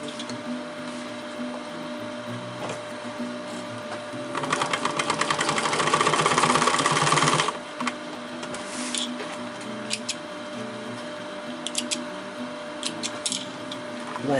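A sewing machine stitching a fabric dart runs in a steady, loud, fast mechanical whirr for a few seconds, set against a constant background hum with quieter handling noises before and after.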